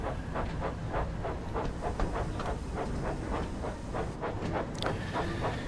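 Train running in Train Sim World 5 near a level crossing, with rhythmic steam chuffs and clatter in a steady, fast beat and a hiss at the end, loud and with no talk.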